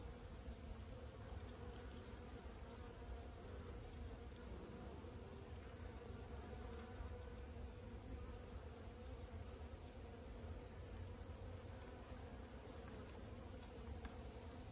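Honey bees drone around a hive, trying to rob honey, in a dense, continuous buzz that stays level and fairly close throughout, with no voices.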